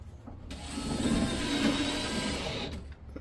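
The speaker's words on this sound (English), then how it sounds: "I'm going to put about five screws in this mounting bracket." Power driver buzzes steadily and close up as a screw is driven into a wall mounting bracket for a solar-powered air conditioner, one sustained whir with a ratcheting edge that starts and stops abruptly.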